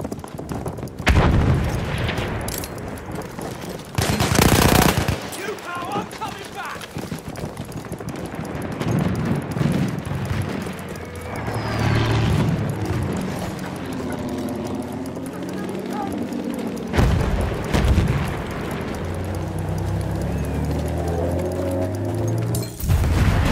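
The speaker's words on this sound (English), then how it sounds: "There's an enemy machine gun! Heads up! Grenade out!" Battlefield 1 combat: heavy booming explosions and bursts of gunfire crash in, with shouted voices and radio chatter running underneath and a loud blast mid-clip.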